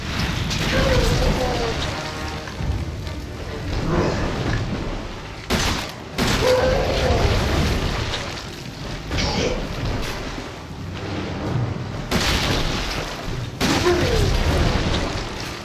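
Grenade launcher shots and blasts in the horror game Resident Evil 7, several heavy booming bursts rolling through a dense, rumbling mix, with short gaps between explosions and a voice talking over parts.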